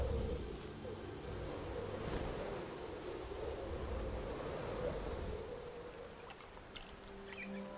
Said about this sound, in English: When the winter blizzards blow in from the Southern Ocean,